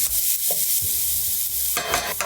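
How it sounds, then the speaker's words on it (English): Onions sizzle in a pan of melted butter and olive oil, a loud, close, steady frying hiss broken by a few stirring scrapes and clatters. "in go the onions, and we're gonna saute these until they get a little translucent"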